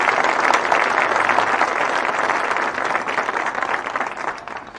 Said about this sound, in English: So we just want to give them a big round of applause.